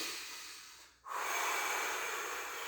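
Deep breathing during a qi gong exercise with feet set wide: a soft airy exhale trails off, a brief pause, then a strong, close, hissing inhale that holds steady to the end.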